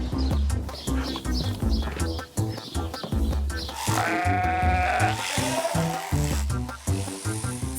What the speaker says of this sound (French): Ça grogne, mais ça bêle aussi chez les fleuris.